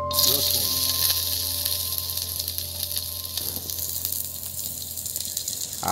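Garlic hits a few drops of hot white oil in a pan for a South Indian coconut chutney, bursting into a loud sizzle that settles into steady, crackling frying.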